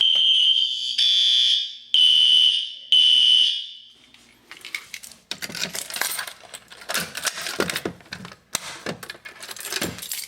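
A Fire-Lite MS-9200UDLS fire alarm panel in audible walk test sounds four loud, piercing electronic tone bursts in a steady on-off rhythm, then gives way to scattered clatter and handling noise.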